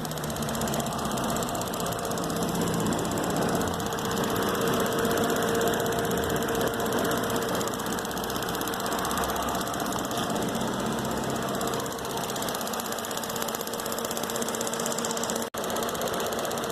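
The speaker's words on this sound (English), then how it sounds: "the car is running, so the engine has to be hot" A car engine idles steadily with the hood open during air-conditioning service, a constant close mechanical drone with a fine rapid ticking texture, unchanging throughout.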